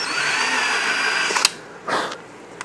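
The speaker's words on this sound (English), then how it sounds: "now I'm drilling into it" A power drill whines steadily as it bores into soft wood while a towel bar is replaced on a shelf, then stops with a knock and restarts with a brief second whir, close and fairly loud.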